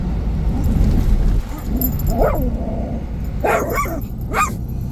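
A dog barks several times in short bursts, fairly close, with yips and a whimpering edge, over a low rumbling background.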